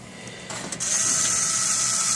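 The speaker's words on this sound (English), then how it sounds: "you push the motherboard toward the back while you're screwing the first few screws in" Motherboard screws being driven into a computer case: a short mechanical ratcheting click, then a steady high whirring buzz that holds to the end, close and fairly loud.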